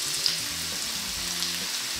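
Chopped onion sautéing in a pan while cooking a Filipino pork estofado, giving a steady, close, even sizzle over a faint low rumble for about two seconds.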